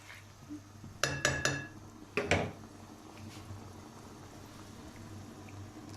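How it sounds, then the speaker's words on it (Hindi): Rice being tipped into a pot of tomatoes for desi-style chana pulao, heard as a quick burst of close metallic clinks and scraping knocks, then a second short clatter, over a quiet low hum. "इसमें हम चावल डालेंगे।"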